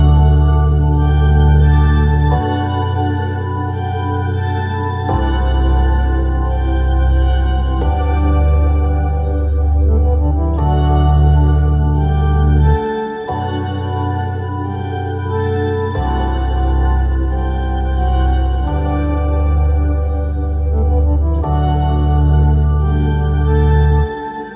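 A keyboard or piano plays a chord progression for a worship song part while one note is held down through the changes, the chords shifting every couple of seconds over a sustained low bass, loud and alone with no talking.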